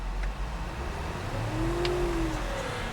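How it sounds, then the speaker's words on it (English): A 2009 Mercedes-Benz GL550 4Matic SUV engine revs up in a smooth rising whine, holds briefly, then eases back down to idle. "I'm going to rev the engine."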